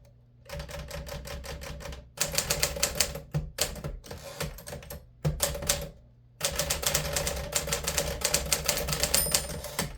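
A 1955 Smith Corona Super 5 manual typewriter typed in bursts of rapid keystrikes, with short pauses between runs, close and fairly loud, and a carriage bell ringing near the end.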